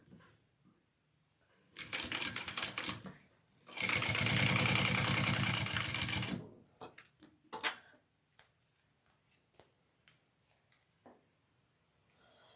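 A sewing machine bastes handbag fabric in two loud rapid bursts of stitching, a short run then a longer one, followed by scattered clicks and handling noises in a quiet room.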